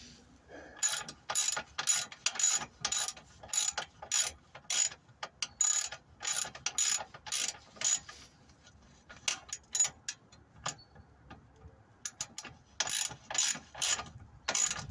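Ratchet wrench tightening bolts on the lower engine mount of a Rover 75 CDT, heard as close, loud bursts of rapid clicking repeated in quick strokes with brief pauses between, and no talking.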